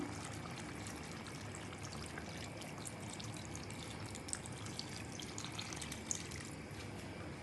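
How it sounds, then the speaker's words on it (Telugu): Tamarind juice poured into an okra curry in a pot, giving a steady continuous watery pour and trickle that runs the whole time at moderate level, with no talking. "చూడండి ఇక్కడ నేను చింతపండు పులుసు వేసుకుంటున్నాను"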